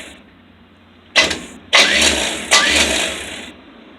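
A 20-year-old van engine cranks in three separate bursts, each loud grinding attempt lasting under a second, close to the microphone with quiet gaps between.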